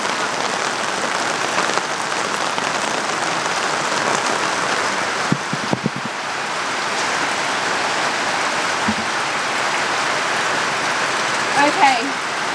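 Steady, close rain pours down on a surface, a dense even hiss throughout, with a few faint knocks and taps that may be steps in clear 8-inch high-heel mules.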